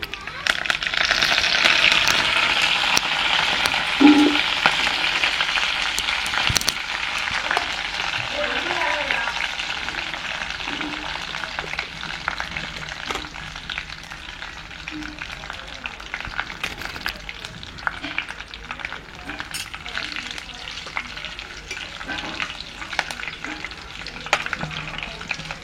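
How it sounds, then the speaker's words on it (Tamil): Mustard seeds and curry leaves frying in hot oil, a dense steady sizzle with scattered pops and crackles, loudest at the start and settling gradually, with occasional stirring. "கடுகு பொரிஞ்சிட்டு கருவேப்பிலையை போட்டுருவோம்."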